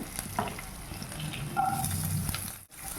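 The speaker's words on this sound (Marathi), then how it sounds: "मिरचीनंतर आपण कांदा त्याच्यामध्ये टाकून घेऊया" Onion added to hot oil with garlic, ginger and chili crackles in a pan, a close, moderately soft sizzle with a few stirring scrapes and a brief drop near the end.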